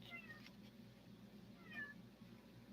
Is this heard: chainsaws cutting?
no